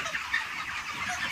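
Hens on a poultry farm cluck and squawk softly in a steady, close chatter with a few sharper calls standing out, no voices.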